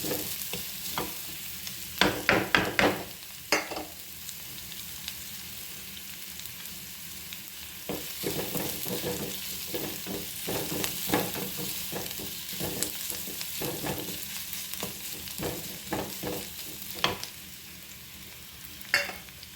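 Chopped onions with a pinch of salt fry in a pan, a steady sizzle broken by bursts of spatula scraping and clattering near the start and again later on, with no talking.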